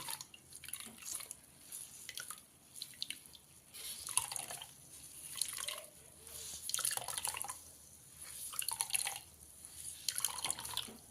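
Coconut milk drips and trickles from a cotton cloth as it is squeezed by hand, in quiet, repeated wet bursts with soft splashes, no talking.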